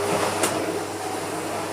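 A vacuum cleaner runs on its maximum setting, a steady loud airy whine and hum that holds unchanged throughout at close range.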